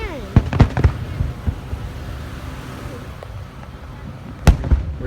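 Nighttime fireworks crack and boom in quick clusters, a burst of several pops early and another pair near the end, with quieter rumbling between.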